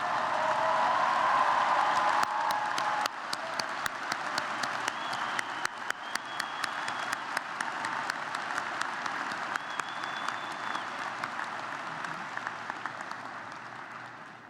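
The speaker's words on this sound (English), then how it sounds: "Graduates, please rise and join me in a round of applause for your teachers and mentors, Gonzaga's faculty." Large audience at a university commencement ceremony giving sustained applause for the faculty, a dense, even wash of many hands clapping that holds steady throughout and begins to thin toward the end.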